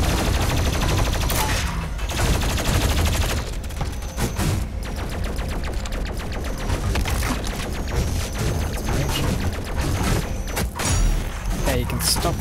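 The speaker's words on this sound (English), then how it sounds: "why are you shooting at me now?" Enemy gunfire in DOOM Eternal on PC, a dense, loud run of shots, thuds and booms packed with game music and effects, with a player's voice talking over parts of it.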